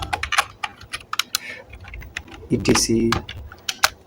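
Quick bursts of keystrokes on a computer keyboard, including a press of the Enter key, while options are typed into a PowerPoint slide. Close, crisp clicks come in uneven clusters under a voice talking.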